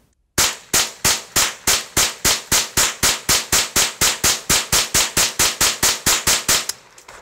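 A Marlin 795 .22 rifle with an extended magazine fires CCI Mini Mag rounds in a rapid, evenly spaced string of about twenty loud, sharp shots, close by, ending abruptly.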